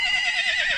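A horse gives a short, shrill whinny with wavering pitch, loud and close, lasting under a second.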